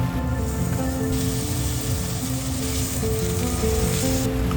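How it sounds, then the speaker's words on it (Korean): Minced meat frying in a pan after tofu has been removed, giving a continuous, even sizzle with a soft hiss, steady and fairly loud with no talking. "두부를 빼내준 뒤 다진 고기를 넣어서 구워줍니다"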